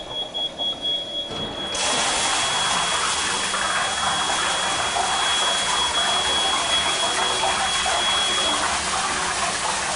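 Water rushes suddenly through a fire sprinkler deluge valve on a riser as it activates: a quiet start with faint pulsing, then a loud, steady gushing flow that continues to the end.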